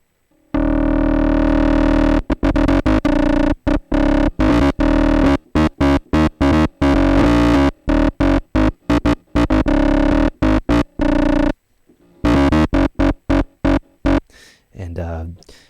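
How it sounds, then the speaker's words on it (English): An Access Virus KC synthesizer run through heavy distortion plays loud, sustained buzzing notes in a choppy rhythm of bursts and short gaps, rich in harmonics, with no one speaking over it. "So I'm going to add a bit of that famous, excess distortion."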